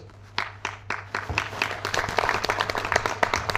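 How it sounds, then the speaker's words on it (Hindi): A seminar audience in Ahmedabad breaks into applause, dense clapping swelling from scattered claps into a loud sustained burst, close and full throughout. "एक बार जोरदार तालियां बजा सकते हैं।"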